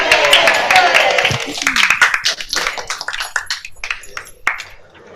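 Concert audience applause trails off into scattered individual claps, dense at first then thinning out, with a voice briefly heard over it.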